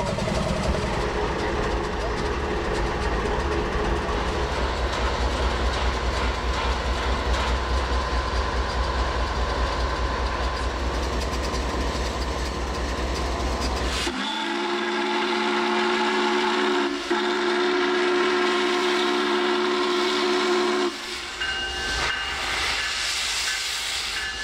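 N&W 611 steam locomotive with its steam whistle, heard as a loud continuous roar and hiss of steam and rail noise that shifts midway into a steadier sustained tone, with no one speaking.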